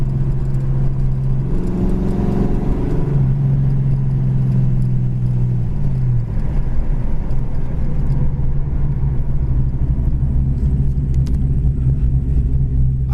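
A red 1985 Ford Mustang GT with a 5-speed idles close by in a steady, loud rumble. After a brief higher rev early on, it settles back to an even idle with no voices.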